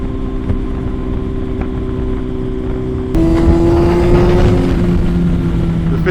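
2006 Kawasaki ZX-10R sport motorcycle ridden at speed, a steady high engine whine that jumps up in pitch and loudness midway as the rider accelerates or shifts, with rushing wind noise underneath.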